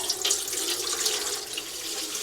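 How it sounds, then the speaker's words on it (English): Water running from a tap into a clean pot, a steady close hiss and splash that continues without a break, with no voices. "I'm going to put some water in the pot."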